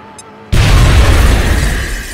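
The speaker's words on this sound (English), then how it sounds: "I'm going to throw that grenade." A grenade explodes in XCOM: Enemy Within, a sudden loud near blast after a brief quiet moment, then a dense roaring crackle that sustains and slowly fades.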